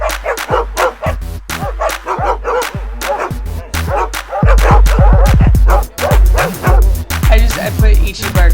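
A small dog barks repeatedly in quick, loud, close yips with some whimpering mixed in. The barks are dubbed over the scene and come in dense bursts.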